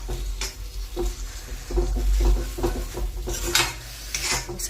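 Homemade paneer being stirred and fried in spices in a pan, with repeated scraping and clinking of a spoon against metal over a faint sizzle, close up and fairly busy.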